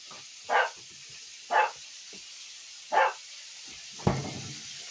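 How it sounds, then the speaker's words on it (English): A Shih Tzu barks from another room in a home kitchen, three short muffled yips at even intervals followed by a sharper thump, faint and distant over a low hiss. "If you can hear Mr. Shih Tzu back in there."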